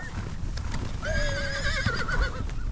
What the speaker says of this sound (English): we've driven about 80 horses